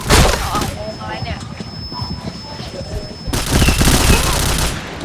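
Rapid gunfire from a video game shooter rattles in dense, loud bursts that continue almost without pause, with the sound swelling near the end.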